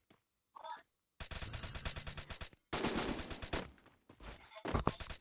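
Bursts of rapid automatic gunfire from the Free Fire mobile battle royale game, loud, close volleys with brief gaps between them.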